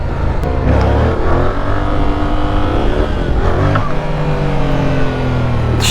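A 2024 Yamaha MT-07 motorcycle engine revving and pulling hard, loud and close with wind roar, pitch rising as it accelerates through the gears.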